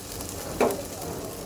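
Boiled potatoes drop into hot oil in a pan during chicken biryani cooking, giving a brief burst of sizzle over a soft, continuous background frying hiss.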